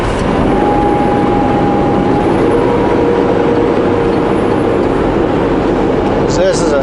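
A heavy truck rolls down a steep grade on Highway 97 near Okanagan Falls, its engine droning loud and steady with a whining tone that shifts in pitch as gears change.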